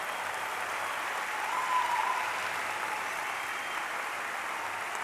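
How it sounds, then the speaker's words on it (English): A university undergraduate commencement crowd applauds its military veterans, a dense, sustained clapping that swells slightly midway and fills the whole room, with no speech over it. "how about a round of applause for our veterans in this room?"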